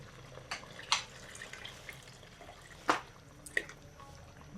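Water is added to a pot of arroz caldo, rice porridge, heard as faint, sparse drips and small splashes with a few sharper liquid plops, quiet and close, with no talking.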